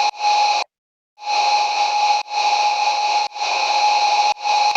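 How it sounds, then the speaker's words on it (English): A future bass synth drone layer built from a massive, heavily reverbed patch sounds as loud, bright sustained blocks. It cuts off once for a brief gap and then pulses on again in repeated chunks, alone with no talk. "One layer is like, I think it was like a massive patch and like completely reverbed"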